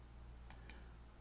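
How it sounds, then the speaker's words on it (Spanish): A computer mouse double-clicks during Civil 3D work: two sharp, faint, close clicks about a fifth of a second apart over a low background hum. "Podemos darle doble clic izquierdo también"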